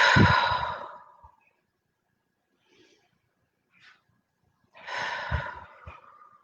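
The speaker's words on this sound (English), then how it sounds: "Couple deep breaths." Two deep, audible breaths taken slowly, each a long airy exhale, separated by a few seconds of near silence, close and clear with no talk.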